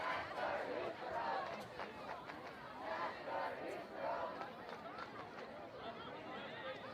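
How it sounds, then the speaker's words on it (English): A high school football crowd at a Westerly Bulldogs game sings and chants together, swelling rhythmically in loud waves over a general background of crowd noise. "Crowd is having fun. They're singing."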